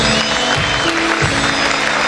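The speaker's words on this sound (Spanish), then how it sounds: "Dale ese fuerte aplauso." A church congregation claps steadily during worship, a dense wash of applause over sustained instrumental music.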